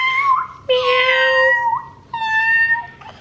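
A child imitating a cat by meowing for a toy cat, three loud, drawn-out, close meows in a row, each with a rising and falling pitch.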